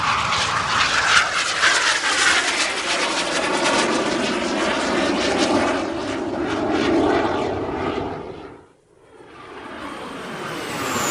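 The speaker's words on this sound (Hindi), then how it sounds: "बाबा फाइटर जेट उड़ा रहे थे।" A fighter jet roars overhead in an animated story, a loud sustained rushing engine blast that swells and sweeps, then drops away abruptly near the end before a quieter tail.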